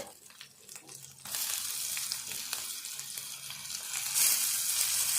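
Tomato tipped into a pan of dried shrimp curry, setting off a loud, steady sizzle of frying that jumps up after a quiet first second and swells further near the end, with faint stirring underneath.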